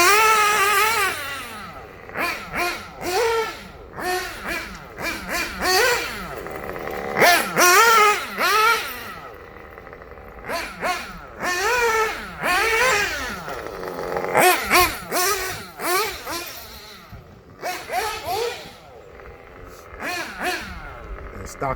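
A Kyosho Inferno Neo 2.0 RC car with a Dynamite 053 exhaust and stock bald tires drives nearby on a street, its small nitro engine revving in repeated rising and falling bursts with short gaps.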